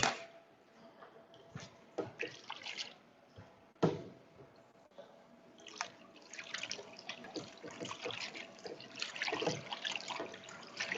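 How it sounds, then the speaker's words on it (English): Soba noodles rinsed in a kitchen sink under running tap water, with irregular close splashes, drips and handling clatter that grow busier toward the end. "let's go over to the sink to wash the noodles"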